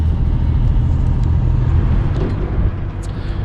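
A car drives on along a road after a customs border crossing into Romania, its engine and tyre rumble steady and loud throughout with no talk.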